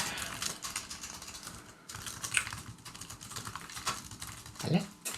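Rapid clicking from typing on a computer keyboard while coding, a steady close patter of keystrokes with brief pauses and faint background sounds.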